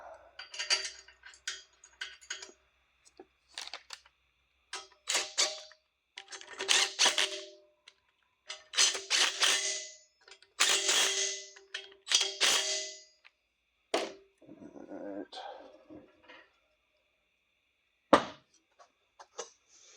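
Bolts being run in and tightened on a GM 14-bolt axle housing: bursts of metallic clanks and ratcheting, close and fairly loud, in irregular clusters separated by short silences.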